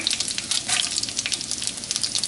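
Sliced dried red chillies sizzle and crackle in hot oil in a pan, a dense, close bubbling hiss with rapid spitting pops and no talk.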